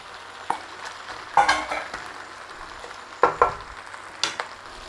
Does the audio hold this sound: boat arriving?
no